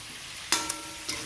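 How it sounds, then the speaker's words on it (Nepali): Duck meat and onions fry in rendered duck fat in a pan. A low sizzle runs throughout, with a few short, louder bursts as the pieces are stirred. "अब यसलाई रातो हुने गरी भुट्छु प्याज सँगसँगै"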